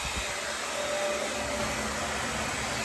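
Revlon One-Step or Conair Silver Bird hair dryer running on medium heat, a steady, loud broadband whoosh that holds unbroken for about three seconds with no talking.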